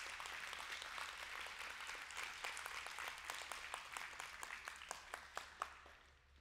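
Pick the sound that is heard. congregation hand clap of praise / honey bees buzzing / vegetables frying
congregation hand clap of praise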